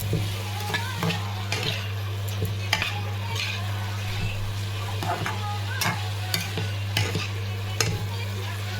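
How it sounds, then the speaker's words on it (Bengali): A turmeric curry is stirred and fried in a pan, giving a constant sizzle. Frequent clinks and scrapes of a utensil against the pan come through at an irregular rhythm, and no one speaks. "নাড়াচাড়া দিয়ে ঢাকা দিব।"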